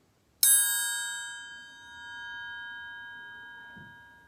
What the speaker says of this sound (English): And so you can hear my triangle.